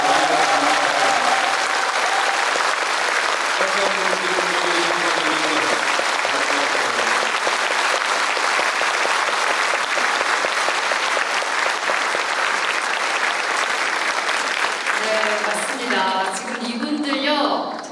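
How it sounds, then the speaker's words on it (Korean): After a Korean martyrs' cantata performance, the audience claps loudly and steadily for many seconds in a dense, sustained wave, and someone speaks over it at the start and again near the end. "다시 한번 격려의 박수 드려주시고"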